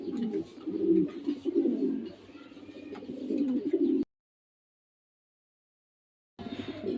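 A male and female pair of blue checker pigeons coo close by in a repeated rolling rhythm, broken by a few seconds of dead silence before the cooing resumes.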